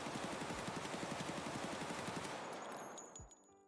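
A PP-19-01 submachine gun fires a long sustained automatic burst in the video game Escape from Tarkov, rapid evenly spaced shots at close range, ending in a trailing echo and faint mechanical clinks.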